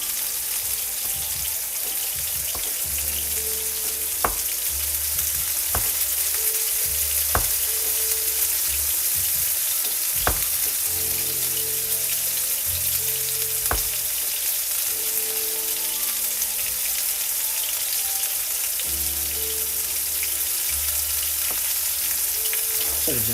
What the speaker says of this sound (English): Simple knife. And just chopping garlic.